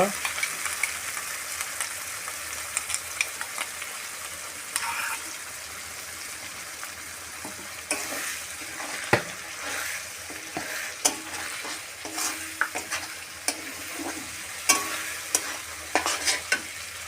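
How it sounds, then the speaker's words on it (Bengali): Onion paste, cumin, coriander and chilli paste frying in a pan while being stirred, a soft continuous sizzle broken by frequent sharp spoon scrapes and taps against the pan. "দিয়ে এবং ভালো করে মশলাটাকে কষিয়ে নিব।"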